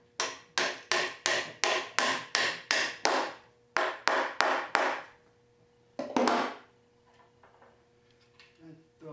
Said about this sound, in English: We'll get Maxwell's silver hammer here